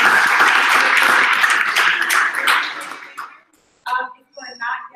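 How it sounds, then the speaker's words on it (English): An audience applauds panelists at a professional talk event, a full round of clapping that tapers off after about three seconds before a speaker's voice resumes. "One more round of applause for panelists."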